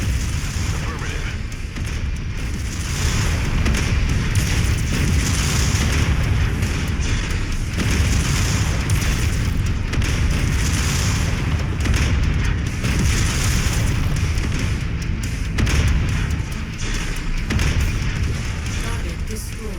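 Continuous heavy explosions roar as an aerodrome's infrastructure is destroyed in MechWarrior 5 VR, a loud, dense rumbling barrage of booms lasting the whole stretch with no break.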